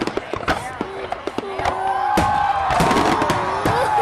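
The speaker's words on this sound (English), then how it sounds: "Look at all them pretty fireworks." Fireworks at the 2010 Bay City show go off in repeated sharp bangs and crackles, some near and some distant, over crowd noise, cheering and nearby talk.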